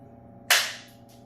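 An air rifle pellet, fired from a Grimburg HP68, strikes a double-wall steel baking sheet with a single sharp, bright crack that rings briefly and fades over a low background hum.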